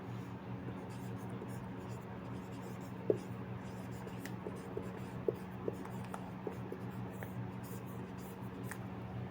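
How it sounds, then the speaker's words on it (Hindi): Chalk or marker scratching on a board during a lesson on the origin of the universe, short strokes and taps spread irregularly over a steady low room hum, with no voices. "यहाँ हम लिख सकते हैं कि"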